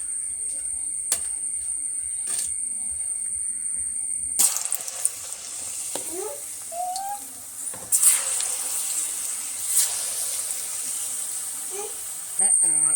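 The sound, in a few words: banana slices frying in hot oil for chips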